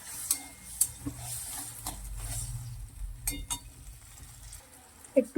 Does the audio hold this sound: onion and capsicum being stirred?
yes